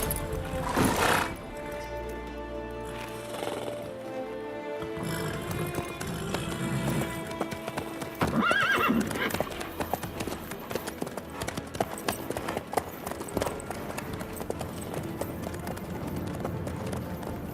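Horse hooves clip-clop steadily in a video game, a continuous rhythmic trotting under music and game ambience, with a brief whinny-like sound early on.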